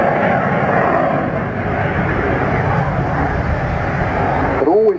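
Yak-130 jet aircraft in a flying display at an air show, a steady broad roar of jet engine noise sustained throughout, loud and continuous, with a brief tonal whine rising near the end.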